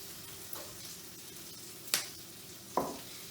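Sesame oil sizzles faintly and steadily in a preheated wok at medium heat, with a couple of sharp crackles and pops rising over the quiet hiss.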